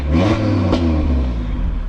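Open-exhaust Audi RS3 with a 570 hp tune, still cold, revved briefly: a loud, close, dense engine roar that holds steady with one sharp blip partway through.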